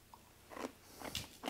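Dry, crunchy Parmesan cheese with no water added is bitten and chewed up close, a few crisp crunches in an uneven rhythm, quiet and with no talking.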